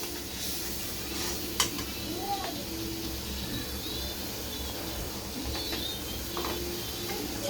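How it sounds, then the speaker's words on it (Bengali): A ground meat spice mix stir-fried in a pan, with a soft sizzle under scraping and stirring clinks of a utensil against the pan, close and fairly quiet, with one sharper knock partway through. "এখন মশলাটা আমি ভালো করে কষিয়ে নিব।"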